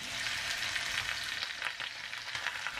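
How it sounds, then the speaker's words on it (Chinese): Pork bones frying in hot oil in a pot over medium-low heat for bone broth, a dense, continuous close sizzle with crackling spatters and no pauses. "油热以后，挨个把大骨头放入锅里面煎"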